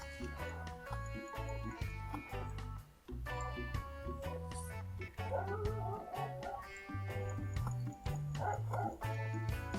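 Dog barking in the survival video game Stranded Deep, heard as short bursts mixed into a steady, loud game music bed.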